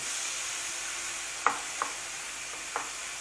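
Chicken pieces searing in a hot pan for chicken iskender, a steady close sizzle with a few brief scraping turns, no talking.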